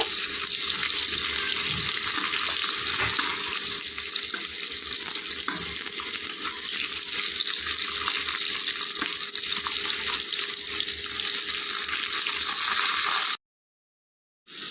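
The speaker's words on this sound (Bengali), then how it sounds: "সবগুলো পটল একবারে যাবে না তো দুইবারে ভাজতে হবে প্রথমে আগে এগুলো ভেজে নিই" Pieces of pointed gourd fry in hot oil in one batch, giving a dense, steady hiss that runs evenly and close up for about thirteen seconds before it cuts off abruptly.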